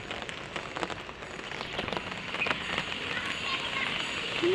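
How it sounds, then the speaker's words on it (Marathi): Heavy rain hisses steadily with dense pattering on surfaces, people talking over the downpour nearby. "तिकडे बघा कसला पाऊस चालू जोरात"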